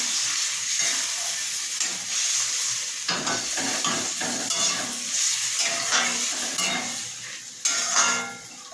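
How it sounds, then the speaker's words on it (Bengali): Patol posto simmers in a pan after a little water is added, sizzling and bubbling as a utensil stirs and scrapes against the metal with repeated clinks, close and fairly loud. "এটা আমি দিয়ে দিচ্ছি সামান্য জল। এবার এটা সিদ্ধ হতে থাকবে।"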